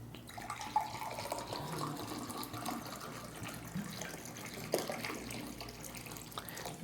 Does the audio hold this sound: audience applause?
no